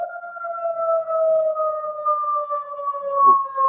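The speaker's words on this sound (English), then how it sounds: "I was hearing an ambulance or something like" An ambulance siren comes through a call microphone as a steady two-tone wail, slowly falling in pitch, distant but clear, with a brief knock near the end.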